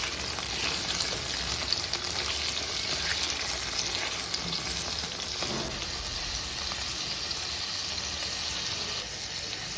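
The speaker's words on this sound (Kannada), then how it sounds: "ಟೊಮೆಟೊ ಈರುಳ್ಳಿ ಎರಡೂ ಫ್ರೈ ಮಾಡ್ಕೋಬೇಕು." Tomato and onion frying together in a pan, a steady dense sizzle with faint stirring running unbroken throughout, no voices over it.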